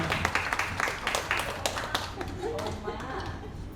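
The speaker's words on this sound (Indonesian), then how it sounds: "Boleh kita berikan tepuk tangan" Audience applause at an Indonesian book launch event, a scattered burst of hand claps that thins out over a few seconds while a voice speaks faintly underneath.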